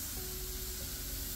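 A Triggerman LVLP automotive spray gun lets out a steady, close airy hiss of atomizing spray that holds evenly through the whole short burst.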